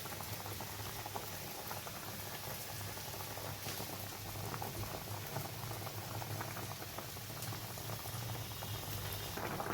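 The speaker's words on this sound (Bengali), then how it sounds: "কিছু অল্প কিছুক্ষণ ফুটিয়েই নামিয়ে নেব" A thin fish curry with potato, eggplant and lentil bori simmers at a steady bubbling boil, a soft continuous patter of popping bubbles with no voices over it.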